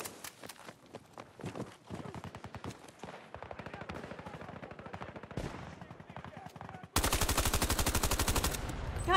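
Automatic and single gunfire in the video game Battlefield 2042, rapid bursts of shots at close range, with a sudden louder, denser volley near the end; faint voice chatter beneath.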